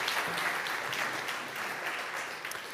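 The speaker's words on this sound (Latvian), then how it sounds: "Paldies, aplaus Lindai." Audience at a workplace-safety campaign conference applauding a speaker named Linda, steady dense clapping from a mid-sized crowd throughout, with no speech over it.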